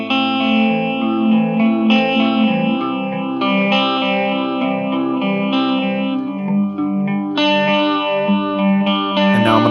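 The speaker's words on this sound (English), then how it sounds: "You can really hear the phase engage there." Guitar sent through a phaser pedal with the speed set to about 75%, sustained chords and notes swirling with a quick sweeping modulation, loud and clear with no talking.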